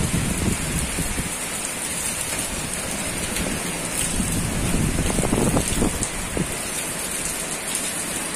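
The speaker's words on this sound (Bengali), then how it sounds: "দক্ষিণা ঝড় হচ্ছে আজকে।" Heavy rain in a southerly storm, a dense steady downpour hissing on surfaces with gusting wind, loud and continuous throughout.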